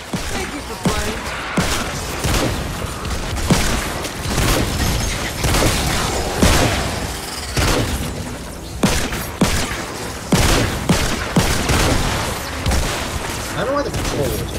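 Dense, rapid gunfire and booming impacts from a Fortnite match ring out almost continuously, pistol shots among them, with a voice talking over the clatter of the game action throughout.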